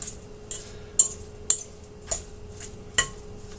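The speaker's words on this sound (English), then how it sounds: "I got it on my skillet." Ground hamburger meat is stirred in a skillet, a utensil scraping and clinking against the pan in about six spaced strokes, close and clear over a faint hum.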